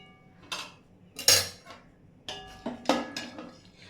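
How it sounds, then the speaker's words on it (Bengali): Butter chicken being spooned from a cooking pot into a serving dish, a few separate clinks and scrapes of a utensil against metal and ceramic, sharp and close, with short quiet gaps between them. "তাহলে চলো এটা আমি সার্ভিসিং ডিসে তুলে নিই"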